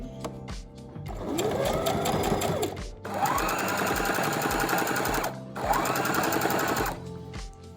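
A sewing machine runs a top stitch along fabric in three loud, close bursts of rapid mechanical chatter, with brief pauses between them.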